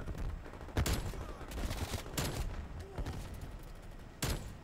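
Video-game gunshots crack out in a few sharp, separated bursts over a busy game background, close and fairly loud, with no talking.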